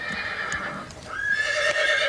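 A horse whinnies loudly and close, a rising, quavering neigh, with faint hoof clatter and movement in the background.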